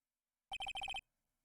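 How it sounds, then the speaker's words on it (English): A phone ringtone from the Phoenix Wright: Ace Attorney – Justice for All video game plays as a quick run of about eight short, bright electronic beeps in two bursts, clear and alone, lasting roughly half a second. "What is with this stupid sounding ringtone?"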